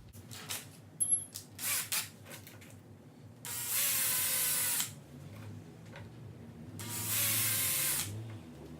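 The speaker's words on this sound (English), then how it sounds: "I'm going to use a number 25 drill bit" A power drill with a number 25 bit whirs in two sustained bursts, each lasting about a second or more, after a few short clicks and handling knocks, drilling holes for a downrigger on a 2019 Hobie Outback kayak; close by, no talk.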